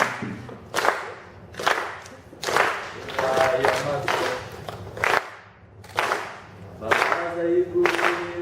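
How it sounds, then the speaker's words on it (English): A live audience at a book pitch session claps along with a song in rhythmic bursts, the claps landing in uneven groups, while a voice sings or chants between them. "I want everyone to clap to this with me"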